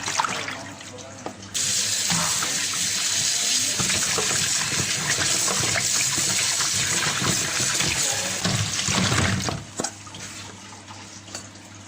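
Split cassava roots being washed under running tap water in a sink to rinse away the white starch, a steady gushing splash continuing for most of the stretch before easing off near the end.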